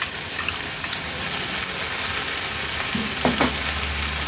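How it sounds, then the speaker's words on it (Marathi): Masala gravy sautés in a pan over a low flame, giving a steady close sizzle and fry hiss throughout, with a couple of soft stirring scrapes near the end. "गॅसची फ्लेम लो ठेवूनच मी हा मसाला असा परतून घेतला आहे, म्हणजे खाली ना पॅनला चिकटणार नाही।"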